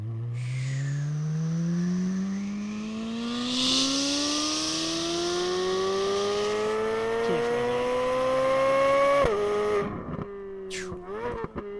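Full-throttle pull in a powerful car: the engine note climbs steadily and hard through the revs for about nine seconds, loud and up close, then cuts off abruptly, followed by a brief revving blip.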